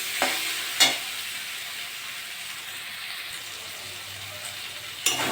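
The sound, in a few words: spice paste frying in a pan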